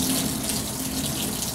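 Water runs steadily from a sink faucet during a surgical scrub as hands are rinsed, a close, continuous splashing hiss with no talking.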